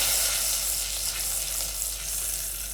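Butter melts and sizzles in a pan for pancake batter, a steady close, bright frying hiss that continues without pause.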